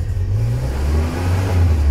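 A 1989 car's engine runs close by with a steady low hum that swells as it revs, loud and continuous, with no voices.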